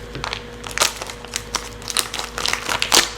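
Worn scissors hack through crinkly plastic packaging of a garlic salt pasta pack in a kitchen, a string of sharp snips and crackling crumples at close range, irregular and uneven.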